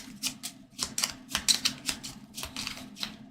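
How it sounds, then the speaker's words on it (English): Playing cards for a fantasy adventure board game are riffled and shuffled in a quick run of crisp, papery bursts, close and fairly loud, with a steady low hum beneath. "So we're gonna shuffle these up."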